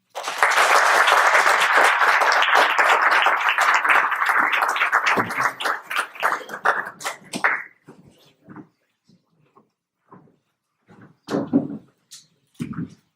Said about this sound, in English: let's get one more round of applause for Mr. Gilad Katz